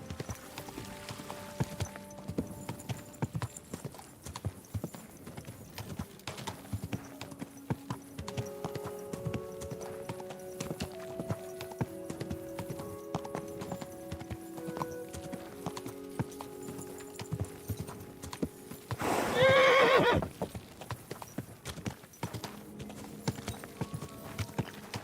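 A horse ridden in the medieval action game Kingdom Come Deliverance 2 clip-clops in a steady, quiet rhythm under soft background music, with a brief louder whinny near the end.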